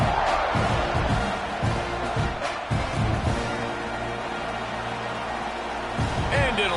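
Broad, steady roar of a stadium crowd at a college football game, Florida versus Texas A&M, swelling continuously through a kickoff with scattered sharper bursts and a commentator talking over it.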